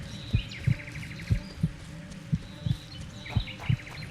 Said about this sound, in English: why the heartbeat sound effect though?